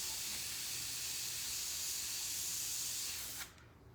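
An airbrush gun at about 30 psi sprays paint onto a shirt, giving a steady, close, breathy hiss that runs unbroken for several seconds before cutting off abruptly near the end.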